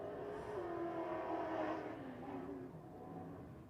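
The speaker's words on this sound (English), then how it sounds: "I was just told there's no muffler on it. So that is direct pipes directly out of that engine." A racing truck engine with no muffler, running on direct pipes at a race meeting, gives a raw, steady roar with rising revs that fades slightly toward the end.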